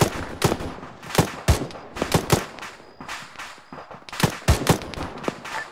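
Bursts of rapid suppressing gunfire in the military video game Arma 3, dense overlapping cracks and rattling volleys in quick clusters throughout.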